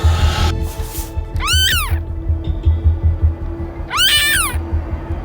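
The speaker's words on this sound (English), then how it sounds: "It's a baby cat." Two high, rising-and-falling cat meows a few seconds apart, with a steady low rumble of background noise underneath.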